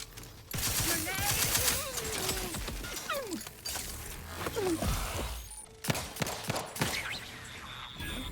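Rapid bursts of gunfire from The Outer Worlds 2 crackle through a busy game mix, with several volleys and sharp cracks around music and effects, loud and close.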